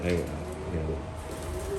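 Racing pigeons coo in a loft, a soft, low, steady murmur of several birds running through the whole moment, with a voice speaking over them.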